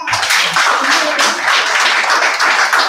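A church congregation claps after a prayer, giving a dense, steady round of applause that stays loud and continuous for a few seconds.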